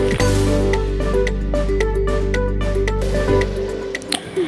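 Seawater boiling in a container as it is heated, a loud continuous bubbling hiss with frequent small pops and ticks throughout, ending abruptly near the close.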